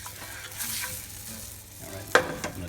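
A flour roux cooks in a pan for a gravy, with a faint soft sizzle under light scraping stir strokes and one sharper utensil knock near the end.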